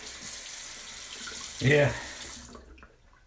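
Cold tap water splashes briefly into a sink as a shaving brush is rinsed under it. The moderately loud spurt lasts under a second, with a short spoken word just before.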